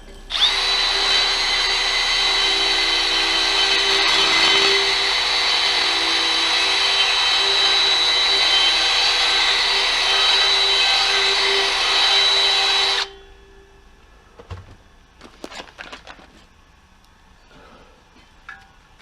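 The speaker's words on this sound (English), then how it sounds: "Let me go ahead and clean up these burrs again." A power tool whines loudly and steadily up close for about thirteen seconds while it deburrs a cut strut sleeve from a 1991 Oldsmobile Quad 442. It then stops, leaving a few quiet clicks and knocks of handling.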